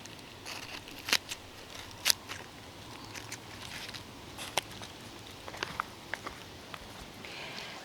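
Pruning shears cut hydrangea stems for cuttings, giving a few crisp snips, two of them sharper near the start, followed by scattered light clicks and rustles over a quiet outdoor background.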